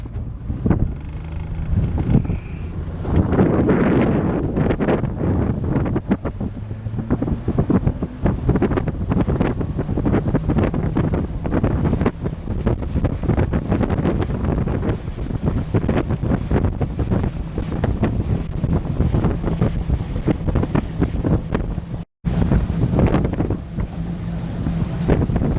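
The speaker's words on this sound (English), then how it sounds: "We're going to throttle up, get moving, and that's it." A pontoon boat fitted with a VARA hydrofoil throttles up and cruises northbound on open water, its steady engine drone and rushing water buried under constant heavy wind buffeting on the microphone, with one brief dropout near the end.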